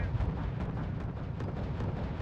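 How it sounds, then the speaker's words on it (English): Units under gunfire in the strategy game R.U.S.E., a dense continuous rumble of distant firing and explosions with heavy low booms layered over one another, loud and unbroken. "Our units are under fire."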